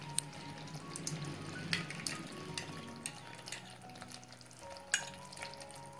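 Chicken changezi gravy mixed in a pan as oil rises, a quiet continuous sizzle with soft spoon scrapes and a couple of light clicks, no voices.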